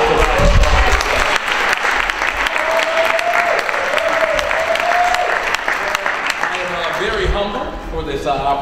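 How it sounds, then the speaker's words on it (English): Audience applause fills a public forum hall about a new Falcons stadium at Morehouse, steady dense clapping throughout with cheers and a voice rising over it midway, tapering slightly near the end. "Let's give Morehouse a round of applause."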